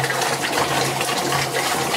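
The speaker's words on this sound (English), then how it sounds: "Now we're going to empty the water" Water being emptied out of a resin filtration tank into a bucket, a continuous splashing gush pouring steadily and fairly close, with no voices.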